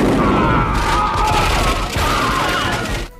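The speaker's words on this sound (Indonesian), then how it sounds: "terjadilah baku tembak. Dan pada saat itu pula, bom yang mereka pasang meledak dan membombardir camp itu" Gunfire and a bomb blast rip through a camp in a film battle scene. A dense burst of shots and booming impacts rolls on for about three seconds, loud and chaotic, then cuts off abruptly.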